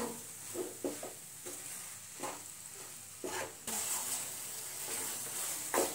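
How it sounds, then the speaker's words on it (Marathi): A paneer modak mixture with sugar and cardamom powder is stirred in a pan. Repeated scraping strokes rise over a low, continuous sizzle, close and moderately loud, with no talking. "आता आपण 5 ते 7 मिनिटं असंच परतत राहूया"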